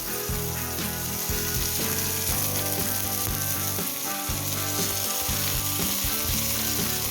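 Konkani-style crispy pomfret fish shallow-fries in a pan with a continuous, loud sizzle and spatter, along with a rhythmic low thumping underneath and no voices.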